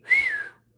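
A person whistles to imitate a whistle aimed at a woman: one short, clear tone that falls slightly in pitch, loud and close, lasting about half a second before silence.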